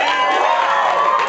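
Crowd at an improv comedy show cheering and whooping loudly and continuously, a dense mass of voices with some clapping mixed in, close and sustained throughout.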